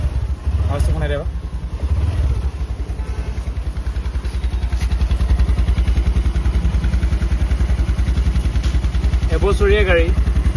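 A Honda Dio 125 Repsol edition scooter, a new 2025 model, idles close by with a steady, rapid low putter throughout, while people talk briefly at the start and near the end.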